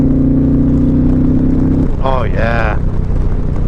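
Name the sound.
Indian Challenger Limited motorcycle engine revving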